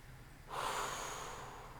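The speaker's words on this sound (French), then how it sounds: "Vous inspirez depuis votre gauche" A person takes a single slow, deep breath in through the nose during a guided breathing exercise, a soft airy rush that swells and holds, close and quiet.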